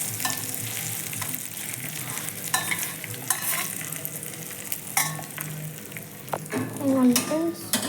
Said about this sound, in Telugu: ఇదిగోండి తాలింపు వేసేసుకోవాలి